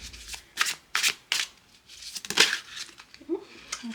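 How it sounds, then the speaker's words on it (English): Close, crisp riffling bursts from a loud tarot card deck being shuffled, several quick flutters and slaps in an uneven rhythm over a few seconds. "a loud deck, which is good, in my opinion"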